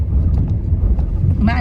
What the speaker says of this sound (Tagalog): Kita ninyo medyo mahangin sa labas.